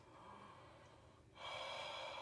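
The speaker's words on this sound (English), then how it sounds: "With an open mouth, please take a deep breath in and out." Deep open-mouthed breath during a heart and lung exam: a short, soft inhalation is followed by a stronger, breathy exhalation, close and quiet, with no talk.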